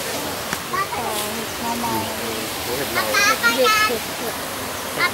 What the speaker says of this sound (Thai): นี่นะครับน้ำตกชั้นที่หนึ่งนะครับ